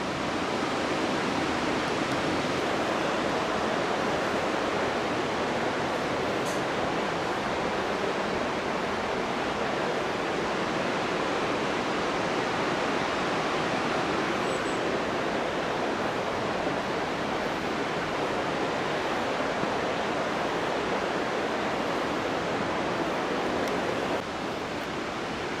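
Constant broadband rushing of a distant waterfall at Capilano Suspension Bridge Park, steady and unbroken throughout, with no voices.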